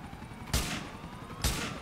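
Two loud, sharp rifle shots in Grand Theft Auto IV, spaced about a second apart, each a broadband crack over a low game-ambience bed.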